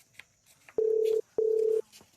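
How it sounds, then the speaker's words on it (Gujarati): Two long, steady ringback tones sound over a telephone line after a number is dialed, separated by a short pause, clear and alone. "ફોન ચેમ નહીં લાગતો ભરત? હા, રાખશે હવે ring જાય છે."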